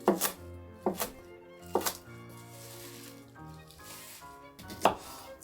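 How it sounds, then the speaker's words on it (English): Knife chopping lacinato and red kale on a board: four sharp, distinct chops spaced about a second apart, with a gap before the last one. Soft background music plays underneath and nobody speaks. "We're gonna start by chopping up some kale."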